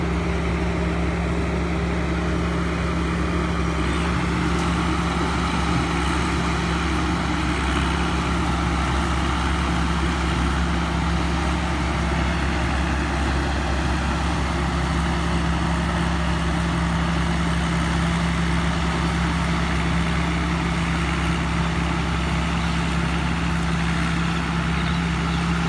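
An On You Pro combine harvester, a 2019 model, runs steadily while harvesting rice in a Buriram field, its engine droning in a constant low rumble that stays loud and unbroken throughout, with no voices.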